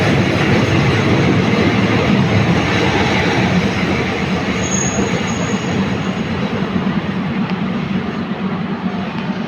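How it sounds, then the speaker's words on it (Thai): Train No. 75, a Bangkok–Nong Khai passenger service, pulls into a station with a loud, continuous rumble of wheels and carriages and a steady rattling that lasts throughout. "รถก็เข้าสู่สถานีกรุงพาวาปีครับ"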